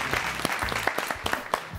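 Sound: audience applause on TV show

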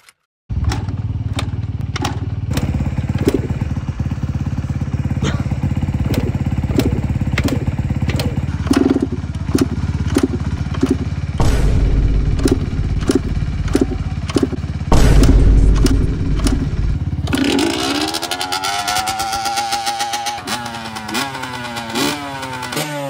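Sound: YZ125 two-stroke dirt bike engine running

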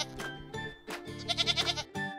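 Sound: Nigerian Dwarf goat bleating

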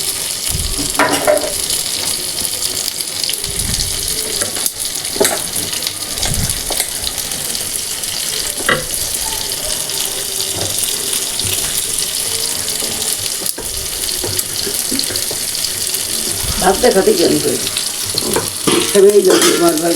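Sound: kebabs frying in pan

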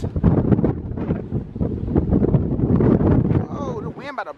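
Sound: strong wind on cruise ship deck

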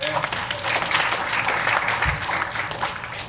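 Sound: round of applause for volunteers

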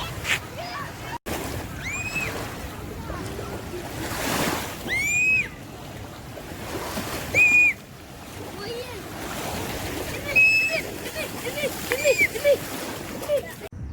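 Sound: sea waves at the beach

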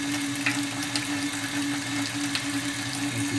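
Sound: water running from a tap into an aluminium sink

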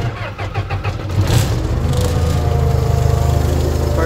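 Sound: lawn mower engine starting up

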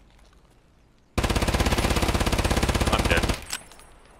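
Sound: gunfire in Escape from Tarkov video game

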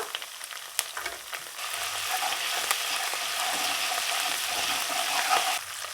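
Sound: frying ginger and garlic paste

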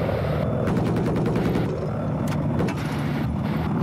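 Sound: mortar firing in video game Battlefield 4

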